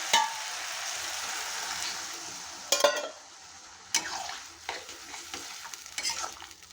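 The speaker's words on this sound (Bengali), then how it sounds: "আমি একটু জল দিয়ে দেবো সামান্য।" Water splashed into a pan of sizzling bottle gourd and potato, a steady hissing sizzle broken by a few sharp clinks and scrapes of stirring against the pan.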